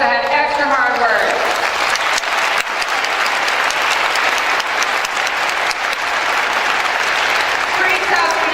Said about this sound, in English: Let's give a large round of applause to those spellers that had extra hard work.